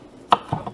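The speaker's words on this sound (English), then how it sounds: "now I'm gonna chop this bit of scallion onions" Knife chopping scallion onions lengthwise on a board: two or three sharp, close cutting knocks over a short stretch, with no talk.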